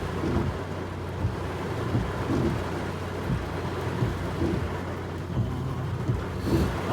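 Heavy rain pours in a continuous dense hiss while thunder rolls low, with dull rumbles swelling and fading several times.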